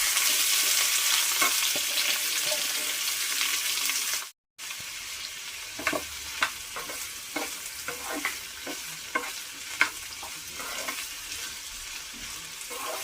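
Snake gourd pieces being tipped into a hot pan, a loud steady sizzle at first, then a brief silence and a run of scraping stirs and clicks over continued frying.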